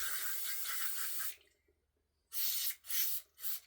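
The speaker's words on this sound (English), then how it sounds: "EGR cleaner, clean everything out." EGR cleaner sprayed from an aerosol can into airgun parts during a service of a Weihrauch HW100 air rifle: one long hiss, a pause, then three shorter sprays, close and alone.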